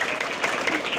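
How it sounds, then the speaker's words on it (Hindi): A crowd applauds at a Sarv Samaj Sewa Samiti community gathering, a brief burst of dense clapping heard close, with voices mixed in. "उनके लिए एक बार जोरदार तालियां"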